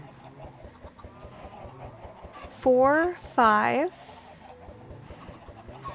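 Chickens in a video game give two loud, distinct clucking bursts in close succession over quiet background game sounds, while a person counts aloud before and after.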